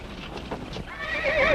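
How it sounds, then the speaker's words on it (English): In a Western film, a horse whinnies loudly near the end, with clopping hooves and shuffling movement beforehand, close by. "Quiet those horses."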